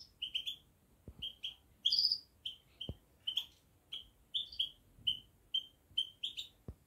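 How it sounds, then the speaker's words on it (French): A caged goldfinch chirps in short, bright bursts, repeating again and again at close range in an otherwise quiet room, with a few faint soft knocks between calls. "Il est en train de piailler."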